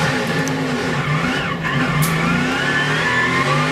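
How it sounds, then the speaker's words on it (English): Race car engine revving hard as a car loses its rear end and wiggles out of control during a crash in the 2007 Yellow Transportation 300 stock car race, loud steady engine roar with skid tones. "Looked like he was by himself and just lost the rear end of that race car."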